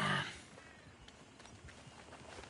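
A horse in the video game Red Dead Redemption 2 gives a short, loud whinny-like burst at the start, followed by faint, scattered hoof clatter over a low background.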